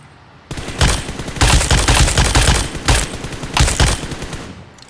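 PUBG Mobile gunfire: loud, close bursts of rapid automatic shots come in several long volleys separated by short pauses.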